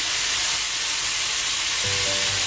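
Diced potatoes seasoned with salt and turmeric sizzle steadily in a pan, a loud, continuous frying hiss that stays up close throughout.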